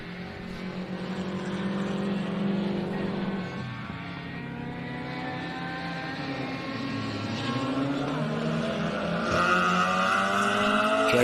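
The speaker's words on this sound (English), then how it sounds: "Jay Ritchie, Toyota Starlet. One of the original 1300cc rocket ships." A 1300cc Toyota Starlet rally car works hard along a gravel special stage in South Canterbury, its engine rising and falling through gear changes and climbing to a louder, higher scream near the end, with no voices.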